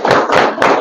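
An audience at a public speaking session claps, giving three quick, loud, close bursts of applause in under a second.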